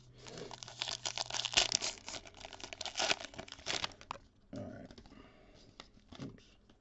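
A Topps Archives baseball card pack being torn open, giving close crinkling and tearing of foil wrapper in several bursts, with a person speaking softly at times.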